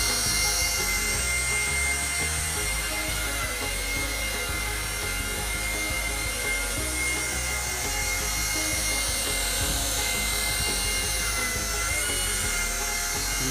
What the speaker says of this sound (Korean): 엘리베이터만 치면은 헬리콥터가 호버링을 해요.